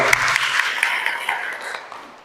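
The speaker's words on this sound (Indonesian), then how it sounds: "Boleh dong kasih tepuk tangan untuk kita semua." Brief applause from a church congregation during a service, a short burst of crowd clapping that fades over about two seconds, fairly close, with faint voices underneath.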